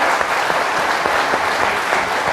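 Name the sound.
audience applause at an exhibition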